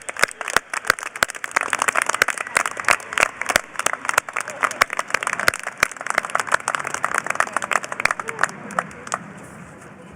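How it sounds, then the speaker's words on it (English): Graduates and guests at a high school graduation ceremony clap, a broad crowd round of applause with sharp individual claps standing out, steady for about ten seconds and trailing off slightly at the end. "Let's give all of our graduates another round of applause, please."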